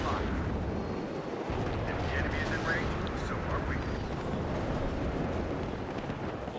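Artillery fire in the WARNO real-time strategy game rumbles as dense, continuous booms and crackling impacts, with a voice speaking over the barrage.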